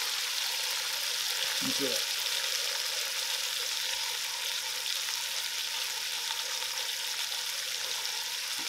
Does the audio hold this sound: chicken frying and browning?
yes